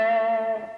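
A guitar played through a Boss Katana 100 amplifier with its spring reverb engaged: one sustained chord rings alone, rich in overtones, then thins and fades within a second.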